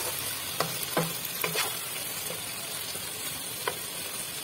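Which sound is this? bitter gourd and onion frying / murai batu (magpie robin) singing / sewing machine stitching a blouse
bitter gourd and onion frying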